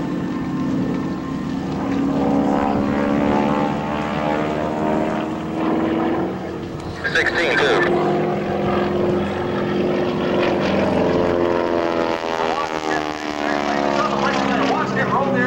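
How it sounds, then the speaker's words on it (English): An SNJ propeller warbird performing aerobatics at an airshow drones loudly and steadily overhead, its engine pitch rising and falling as it maneuvers, with an announcer talking over it. "Watch him roll the airplane upside down,"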